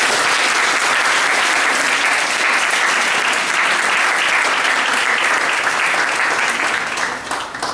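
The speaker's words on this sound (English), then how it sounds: "Please give a big applause to him." Dense applause from a business forum audience welcoming a guest professor, loud and steady throughout, tapering only slightly at the very end.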